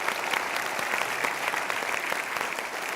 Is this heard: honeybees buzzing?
no